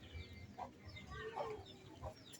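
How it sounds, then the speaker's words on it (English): Chickens on a chicken farm give several short scattered clucks over a low murmur of background noise, fairly close but not loud. "when some of the chickens are sick, we keep them separate from the others."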